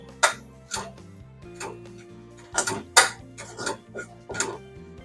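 Red chilli powder and masala are stirred in a kadhai while making shevga (drumstick) masala, giving scattered metallic scrapes and clinks of a spoon against the pan over a low steady hum.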